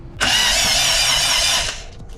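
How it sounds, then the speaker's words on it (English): A Honda Del Sol engine cranks over on the starter after a head gasket job, a steady loud whirring drone lasting about a second and a half before it cuts off. "let's go see if this thing will start."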